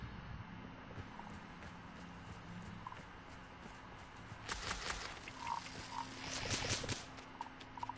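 Frogs croak in Hogwarts Legacy, a scattering of short, fairly faint calls. They grow busier toward the end over a soft ambient bed.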